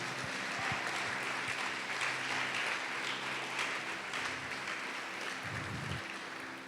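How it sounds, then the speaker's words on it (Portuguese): A church congregation claps in praise during a sermon, a continuous, moderately distant patter of many hands carrying over a low hum with no talk, ending in a brief close bump. "Pode aplaudir o Senhor Jesus e glorificar."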